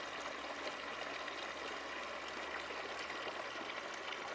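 Water pours steadily for cattle at a home farm pen in Thailand, a constant rushing flow with no breaks and no voices.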